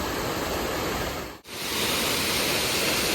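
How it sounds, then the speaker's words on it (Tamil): Maranatty waterfall in Kerala pours and splashes in a loud, steady broadband rush close by, broken only by a brief dropout partway through. "செம்மையாக அப்படியே அந்த தண்ணி பட்டு அப்படியே தெளிக்கிறது வேற லெவலில் இருக்குது"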